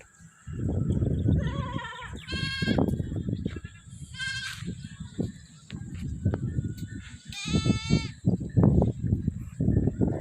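Several goats bleat in short, wavering calls, some close and loud, over a steady rumble of outdoor backyard noise and shuffling.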